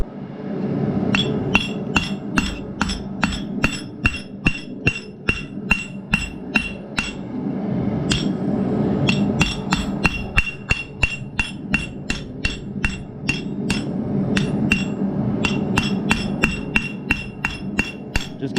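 A hammer strikes a rivet over and over to shape it, sharp ringing metallic blows in quick, steady bursts with short pauses, close and clear.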